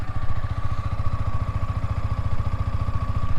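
A Yamaha R15 V4 sport motorcycle idles close by with a steady, even low thrum of rapid regular engine pulses and a light mechanical clatter over three and a half seconds, no voices.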